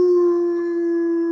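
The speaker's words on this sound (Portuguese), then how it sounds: "Eu converso com o cachorro." A dog howls in one steady, sustained tone, close and loud, held for the whole moment with no voices over it.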